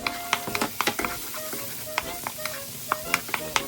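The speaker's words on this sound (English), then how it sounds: "And then you have to stir fry. I add a little bit of oil so it's not get burned, and also I add the onions chop." Chopped garlic and onions stir-fry in oil for a Filipino beef calderita, crackling and popping in a busy close sizzle with rapid spatula scrapes and clacks against the pan, and no talking.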